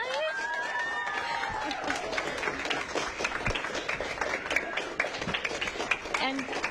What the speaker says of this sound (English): Can we get another round of applause, guys?